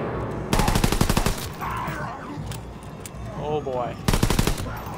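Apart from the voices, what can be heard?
machine gun firing in Call of Duty WW2, video game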